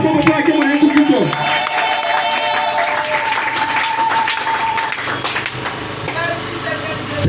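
Congregation at a church service breaks into sustained applause, a dense wash of clapping filling the room with a few cheers, while a voice carries on over it.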